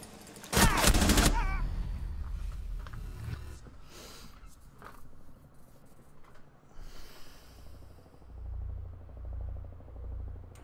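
A loud, rapid burst of gunfire in the Rainbow Six Siege video game cracks out near the start. Quieter clanks, mechanical noises and a low rumble follow.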